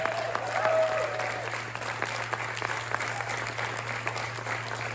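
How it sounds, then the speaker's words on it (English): Applause for a high school jazz band at a spring pops concert, a broad, even wash of clapping from a large audience filling the whole stretch, with a steady hum beneath. "One more round of applause for our South River Jazz Band"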